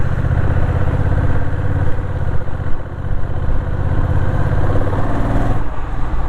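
A Honda CMX1100 DCT cruiser motorcycle rides along with a continuous deep, throbbing engine rumble, loud and close, swelling briefly as the throttle opens, with no voices.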